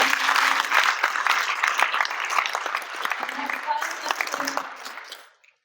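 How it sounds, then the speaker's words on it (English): Applause from an audience at an annual member meeting of a progressive political organization, broad sustained clapping that fills the room and tapers off at the end, with some voices mixed in. "So one more round of applause,"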